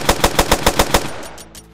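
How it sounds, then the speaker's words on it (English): Rapid burst of automatic gunfire from a zombie survival video game set in a post-apocalyptic world, about seven evenly spaced loud shots, then a trailing echo and a few fainter distant pops, with no talk. "Okay, and all the shots are earth-stirring or whatever."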